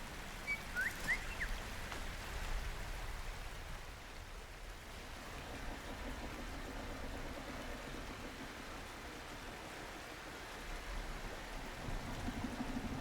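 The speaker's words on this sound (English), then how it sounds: "The rain is getting loud." Steady rain falls in the video game Cairn, a broad hissing wash that stays fairly even throughout with slight swells, with no voices.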